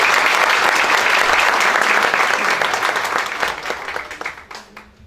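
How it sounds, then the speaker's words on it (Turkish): Sustained applause from an audience at a Turkish civic gathering in Üsküdar, dense and loud at first, then thinning and fading toward the end. "Sizlerden de onlar adına bir alkış rica ediyorum."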